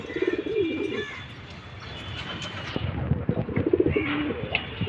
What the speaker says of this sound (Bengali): আমি এক পেয়ার কবুতর এই ধাপড়ির মধ্যে জোড়া লাগিয়ে দিছি